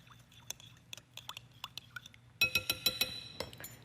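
A spoon stirring an olive oil and chili powder mixture in a glass bowl makes quiet, rhythmic clinks and taps against the glass, growing louder and brighter toward the end.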